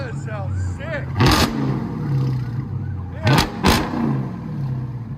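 A Dodge Scat Pack with Carven R exhaust revs hard in sharp bursts, three loud throttle blips with deep rumbling idle between them, close by, as people talk and react around the car.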